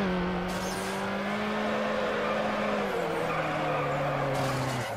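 A street racer in Need for Speed Underground loses grip and spins out, its engine droning steadily with a pitch drop midway, layered with a sustained tire-skid hiss across the whole stretch.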